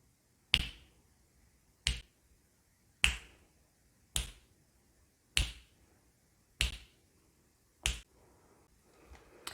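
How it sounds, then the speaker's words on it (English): Seven crisp finger snaps ring out one at a time at a slow, steady pace, close and clear against near silence. "as easy as snapping your fingers"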